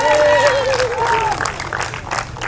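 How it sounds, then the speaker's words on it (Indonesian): A congregation at a crowded Christmas church service held under a bridge claps and cheers loudly, with a sustained tone sounding over the applause before it thins out. "Berikan sorak-sorai buat Tuhan."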